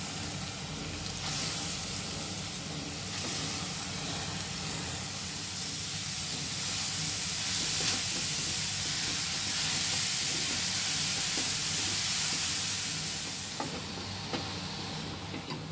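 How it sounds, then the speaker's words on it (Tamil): Carrots sautéing in ghee in a pan for carrot halwa give a steady, close sizzle with soft stirring scrapes throughout, no talking. "இந்த நெய்யிலேயே நம்ம அந்த கேரட்டை வதக்கிக்கலாம்."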